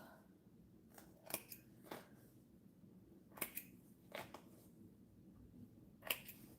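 Scissors give several small, crisp snips as stitches are cut out of leather, close and quiet, spaced irregularly over a faint background.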